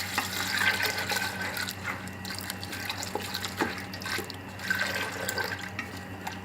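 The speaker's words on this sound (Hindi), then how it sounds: "इसके अंदर अब इतना पानी डालूंगी कि ये जो चीज़ें हैं इसके अंदर अच्छी तरह डिप हो जाएं" Water runs steadily into a pot of samosa ingredients with splashing and a few clinks, fairly close, no talking.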